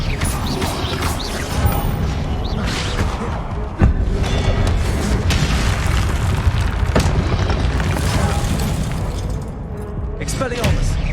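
Expelliarmus spell blasts in Hogwarts Legacy: a dense, roaring wash of magical bursts and crashes with sharp impacts near four and seven seconds, under near-constant voices.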